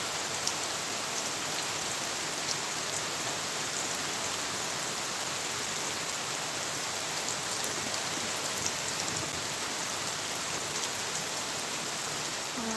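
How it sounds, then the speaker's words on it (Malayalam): Heavy rain falls in a constant, dense hiss, an unbroken wash of drops with no voices or other sounds. "മഴ നല്ല മഴ പെയ്തുകൊണ്ടിരുന്നത്"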